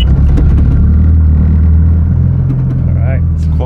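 An 809 hp all-wheel-drive Mazdaspeed 6 idles close by with a loud, steady low rumble while people talk over it.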